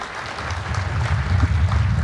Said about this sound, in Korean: 수상자들에게 다시 한번 힘찬 축하의 박수 부탁드립니다.